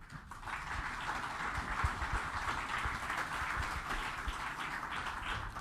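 An audience at a panel session on development-bank financing applauds the four participants, a steady, fairly faint patter of clapping that runs evenly throughout without a break.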